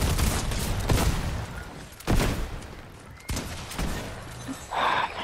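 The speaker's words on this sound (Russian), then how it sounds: "Еще пуляет, там, по-моему, вдалеке." Distant gunfire in the Fortnite video game, heard as a handful of faint, scattered bursts and pops spread over a steady murky background, with no talk over them.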